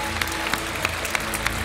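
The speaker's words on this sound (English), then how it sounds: "give the Lord a hand clap of praise and honor today" A church congregation gives a hand clap of praise, a light patter of scattered clapping with a few sharper claps standing out over a low hum of room tone.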